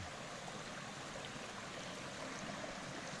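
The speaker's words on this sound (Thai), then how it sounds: "น้ำไหลจากน้ำตกน้ำนอน" Water spills steadily down a natural waterfall in the forested hills of Kut Chum, Yasothon, a continuous close broadband rush with no pauses and no voices.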